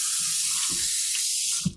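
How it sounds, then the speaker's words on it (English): Hot tap water pours steadily and loudly into clean, freshly washed glass canning jars, a continuous hissing rush that stops abruptly near the end with a small clunk. "now I'm going to fill them each with really hot water"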